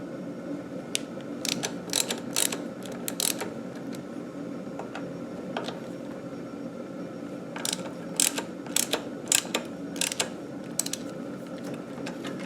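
Brake fasteners on a Mongoose Juneau 26-inch fat tire bike being loosened: bursts of rapid ratcheting clicks from a hand tool, close and fairly quiet, coming in separate runs with pauses between them.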